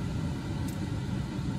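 A 2010 Volkswagen Polo car's engine hums with a low, steady rumble, close and constant, with no clear rise in pitch from the throttle.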